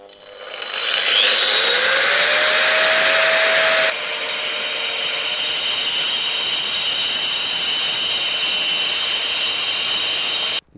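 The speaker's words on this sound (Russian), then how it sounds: "Сейчас я пропилю с двух сторон и аккуратненько эту стену сломаю" An angle grinder fitted with a dust shroud cuts into a wall in an old apartment being renovated. It spins up with a rising whine, then roars with a loud, steady, harsh cutting noise before abruptly stopping.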